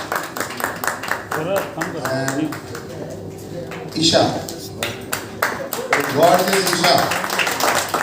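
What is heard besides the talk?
audience clapping at a Hindi movie trailer launch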